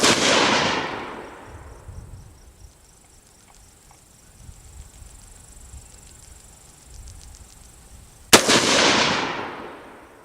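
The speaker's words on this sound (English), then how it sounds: "install the new trigger in the firearm, and then fire 3 more groups" Two loud rifle shots from an Eagle Arms Eagle 15 fired in groups, one at the very start and one near the end, each with a long outdoor echo, separated by quiet ambience with faint insects.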